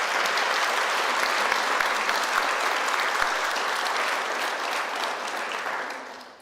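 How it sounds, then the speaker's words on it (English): Sustained audience applause at a civil rights anniversary event, a loud, even wash of many hands clapping that holds steady and then fades out at the end. "Let's give him a round of applause."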